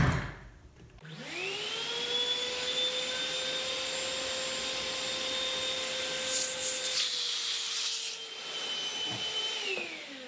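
A vacuum cleaner with its hose switches on and runs as a steady, loud whine and drone for about ten seconds, with brief rubbing noises near the nozzle before it winds down.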